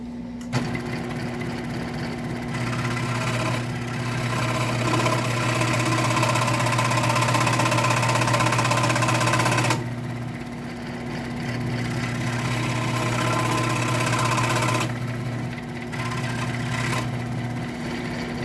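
A Wen scroll saw cuts wood at a higher speed, producing a steady mechanical buzz and rapid reciprocating hum that drops out briefly and resumes in long stretches.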